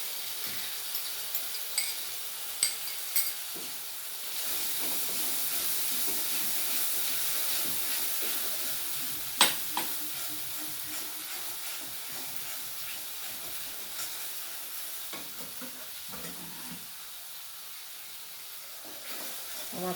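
Ground spices and a little yogurt sizzle and hiss in hot oil in a pan, a steady soft frying wash broken by occasional light clicks and scrapes from stirring.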